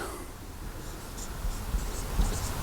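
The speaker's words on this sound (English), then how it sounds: "I don't think I actually put it on the board yet, so I'll do that right now." Marker scratching and squeaking on a board at a lecture on NASCAR and circle-track suspension, a few short strokes fairly close over low room rumble.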